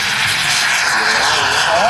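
A model aircraft engine runs at maximum thrust during a model aircraft meeting, a loud, steady high-pitched whine that holds for the whole stretch, rising slightly near the end, with a voice talking over it.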